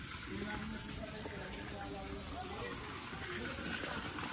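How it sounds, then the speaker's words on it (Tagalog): Water gushes strongly in a steady, continuous rush at moderate distance, with faint voices in the background. "Yun na, ang lakas ng tubig."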